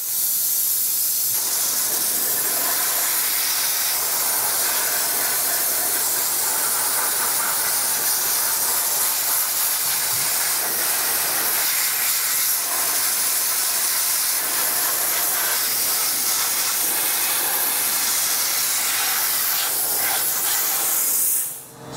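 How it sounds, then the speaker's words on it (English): Dry ice blasting gun cleaning the dust-caked brake system and undercarriage of an E36 BMW M3, a loud, steady high-pressure hiss and roar running continuously close by, then cutting off at the very end. "we're gonna turn on our dry ice and we're gonna start cleaning"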